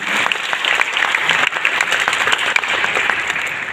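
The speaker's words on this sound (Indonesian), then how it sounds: "Kita tepuk tangan dulu buat mereka." Audience applause for Papuan dancers in Mimika, a dense, steady patter of many hands clapping at close range throughout, with no voices standing out.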